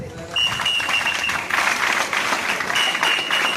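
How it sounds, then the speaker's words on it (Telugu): A school crowd at a sports festival opening gives a big round of applause for the physical director, dense clapping running the whole stretch, with a thin whistle-like tone drifting above it. "పీడి గారు, మీరు కూడా బిగ్ క్లాప్."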